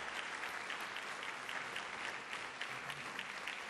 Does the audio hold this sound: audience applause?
yes